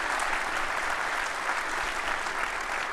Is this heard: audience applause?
yes